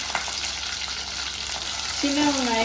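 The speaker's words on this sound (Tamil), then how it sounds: "கொஞ்சம் ஒரு வெறும் கலரில் வர வரைக்கும் கொஞ்சம் நேரம் வதக்கிக்கலாம்" Green chilies, curry leaves and shallots sauté in hot oil for a fish gravy, giving a steady close sizzle with stirring scrapes, and a brief tonal whine rises near the end.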